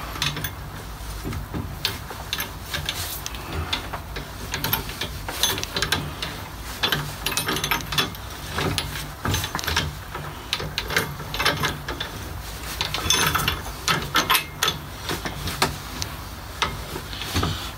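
A ratchet tightens a nut while front shock absorbers are replaced on a Volkswagen Golf 3, giving rapid, steady metallic clicking throughout at close range, with no talking.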